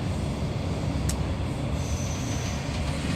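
A train rolls toward Köln main station in Germany, heard from inside as a steady loud rumble of wheels and carriage noise with a brief high squeal, no talk.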